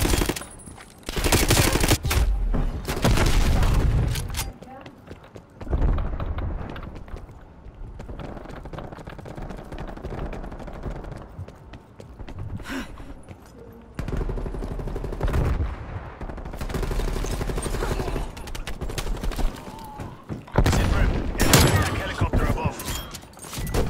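Gunfire and shotgun blasts in Call of Duty Black Ops Cold War online play, loud bursts of shooting and explosions in repeated clusters, with someone talking over the action and game voice announcements.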